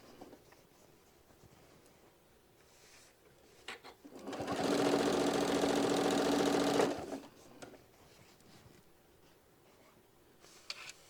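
A sewing machine runs a basting stitch along the edge of a project, a steady whirring run of about three seconds in the middle, close and moderately loud, with quiet handling noise before and after.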